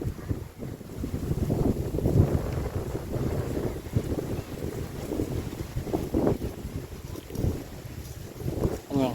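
Gusty wind buffets the microphone out in an open rice field, a loud, rumbling roar that swells and dips without a break.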